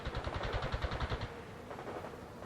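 Rapid bursts of gunfire from a World in Conflict battle, a fast rhythmic volley for about a second before trailing into a softer, muffled combat rumble with no voices.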